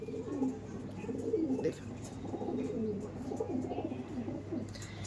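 Male and female Andhra pigeons cooing in a loft, a run of soft, rolling throaty coos repeating close by at low volume, with a brief spoken word at one point.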